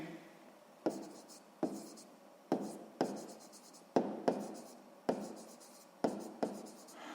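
Pen or pencil writing by hand during a 6th-grade math lesson: a series of close, quiet scratching strokes, each starting with a sharp tap and fading, in an irregular rhythm with no talk.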